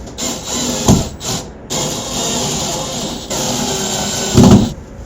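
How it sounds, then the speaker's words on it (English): Cordless drill driving screws into plastic wall anchors to hang a heavy mirror, with two short buzzing bursts of the drill amid close handling noise and hiss. "Go ahead and start tightening down my screws."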